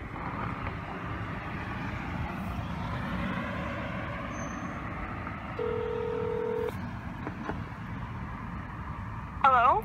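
A T-Mobile cell phone gives a single keypad-style tone lasting about a second, heard outdoors over a steady rumble of passing traffic, with a brief sharper sound at the very end.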